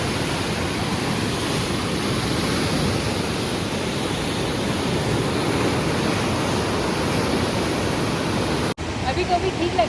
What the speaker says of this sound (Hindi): रात में सस्पेंशन ब्रिज के नीचे से बहती हुई ये भागीरथी नदी कुछ ऐसी लग रही थी।